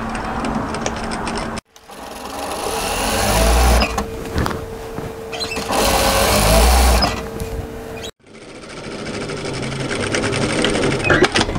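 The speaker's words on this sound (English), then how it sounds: "we're going to sew that at 1 centimeter and start at this edge, right on the edge" A sewing machine runs a 1 cm apron seam along a fabric edge toward a fold, in two long steady bursts of motor whir with short pauses between, close and fairly loud.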